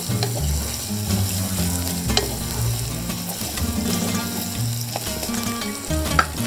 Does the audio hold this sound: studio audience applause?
no